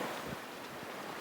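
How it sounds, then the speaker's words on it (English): Wind and waves at sea aboard a sailboat with about 15 knots of wind and whitecaps on a Pacific passage, a steady broadband rush of wind and surf buffeting the microphone, close and continuous, with no talking. "The wind speed's picked up to about 15. Francis is just checking things up the front. A few white caps out there."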